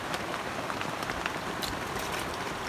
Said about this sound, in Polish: jestem cała mokra, bo mi pada w namiocie